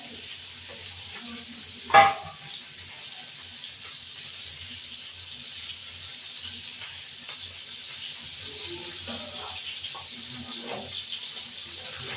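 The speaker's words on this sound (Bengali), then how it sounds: "এবার মাছটা উঠিয়ে নিলাম হয়ে গেছে ভাজা" Katla fish fries in oil in a pan with a soft, continuous sizzle for about twelve seconds. A single sharp clatter comes early, then quiet stirring scrapes follow near the end.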